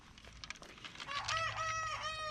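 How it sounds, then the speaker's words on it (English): A rooster crows in a garden setting, a clear harmonic call rising and holding after some faint clucking and rustle, fairly near and alone with no talk. "I hear Mr. Grumpy Bubbles in the background. That's what I call the rooster secretly, Mr. Grumpy Bubbles."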